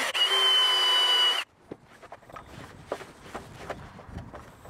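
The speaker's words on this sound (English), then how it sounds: "It's a good idea to drill from the outside of the charge point towards the inside" A power drill bores through the plastic casing of a home 7 kW EV charge point, a loud steady whir for about a second and a half, then stops, followed by faint handling clatter and movement.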